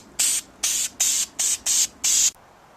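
Six short bursts of aerosol spray paint, silver, misting onto a 1936 Philco Model 630B radio chassis in quick, evenly spaced blasts, loud and close, ending in quiet.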